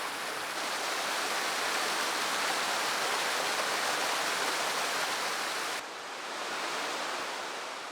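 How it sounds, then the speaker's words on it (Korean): Rushing mountain stream in a forested Seoraksan valley, a steady dense wash of water close by with no pauses, slightly dropping in level near the end. "선불동 계곡은 시원한 물소리에 숲속의 바람소리가 더해져 생명력이 넘칩니다"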